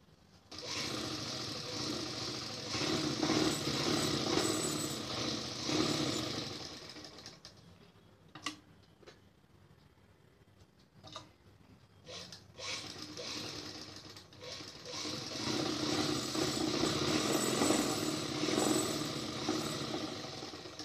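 A sewing machine stitching the seat seam of a salwar runs in long, steady whirring bursts with a rattling mechanical drone, pausing in the middle for a few seconds of quiet clicks and handling before stitching resumes, close and clear.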